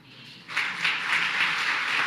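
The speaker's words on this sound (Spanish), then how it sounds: "Aplaudan" Church congregation breaking into applause during a Spanish-language sermon, a faint room tone that swells after half a second into a pulsing wash of clapping.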